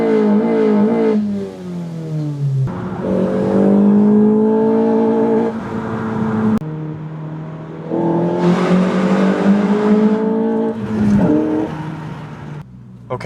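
A Honda Civic fitted with a cold air intake revs repeatedly, its loud, close engine note surging up and dropping back in several bursts with pauses between.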